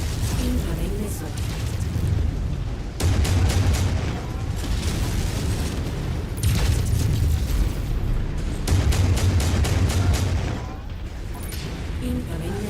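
Repeated heavy missile explosions and bursts of weapon fire in the MechWarrior mech combat game on PC, loud and dense rolling booms arriving in waves over a continuous mechanical rumble.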